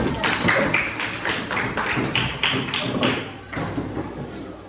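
Students in a classroom clap together in a steady burst of applause, a dense run of close, overlapping hand claps lasting several seconds with a faint voice or two underneath.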